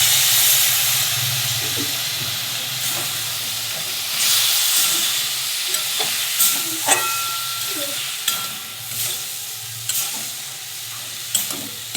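Spices, ground cumin among them, hiss and sizzle loudly in a hot pan as water is poured in. Steady frying noise runs throughout, with occasional stirring clinks and small spatters.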